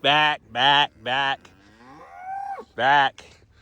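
Cattle moo loudly and close by while being fed hay: four deep, drawn-out calls in a row, with a softer, wavering bellow in between.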